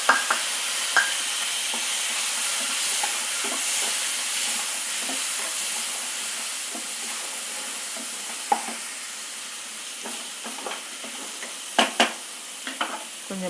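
A single tomato sizzles and fries in hot oil in a pan, a steady bright hiss running throughout with occasional sharper pops and crackles and the odd stir; no voices.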